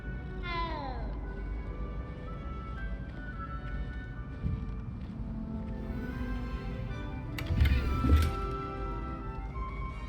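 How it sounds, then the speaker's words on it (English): A cat meows in the Hogwarts Legacy video game, a few rising and falling calls near the start over a steady game ambience, followed by a low thump and a brief bright clatter. "Wanted to pet the cat."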